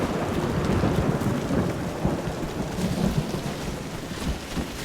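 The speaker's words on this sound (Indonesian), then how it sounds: "Karena ada suara petir, aku pun memutuskan untuk maju ke depan." Steady heavy rain pours with a low rolling rumble of thunder underneath, dense and continuous throughout, in the video game Arena Breakout on the Farm map.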